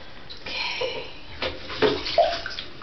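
Warm water runs into a tub while a dog is bathed, a soft steady splash with sloshing and a few louder splashes and handling noises near the end, close by and without speech.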